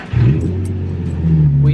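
A Nissan 350Z being prepared as a drift car starts up, its engine catching with a short rising crank and settling into a loud, close, low idle rumble, with a brief voice over it.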